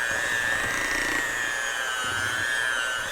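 Cheap hand mixer, a Hamilton Beach, Black & Decker or Mainstays model, whirring steadily on its lowest speed with a constant high motor whine that sags slightly as the beaters bog in the bowl; no talking.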